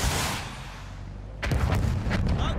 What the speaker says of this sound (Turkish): Patlama, iyi patladı.